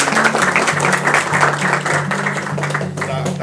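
An audience applauds at a library gathering during a felicitation, a continuous round of clapping with a voice over a loudspeaker speaking over it.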